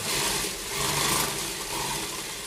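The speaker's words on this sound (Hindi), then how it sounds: "अब इसे कट पे रखते हैं, इस तरह इसको सिलना शुरू करेंगे।" A sewing machine runs steadily, stitching a sleeve with underground piping, its continuous mechanical whir close and fairly loud with a slight rise and fall in pace throughout.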